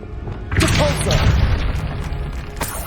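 Depulso force spell in the Hogwarts Legacy video game: a sudden loud boom thumps in after a quiet start, then a rumbling, crackling decay continues over game music with a couple of sharp clicks near the end.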